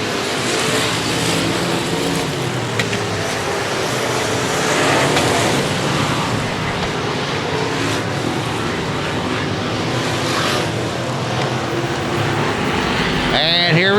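Race cars roar around a Texas speedway oval on the final lap, a dense, loud wash of engines passing and fading with crowd noise and a track announcer talking over the action.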